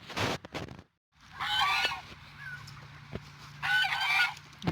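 Ducks in a farmyard after a hailstorm give bursts of loud honking quacks, two clear groups separated by quieter moments, with faint background noise.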